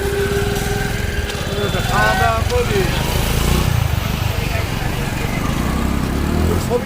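Hero Honda Passion motorcycle engine idling steadily up close after a new clutch plate fitting, a light buzzing putter running throughout while people talk over it.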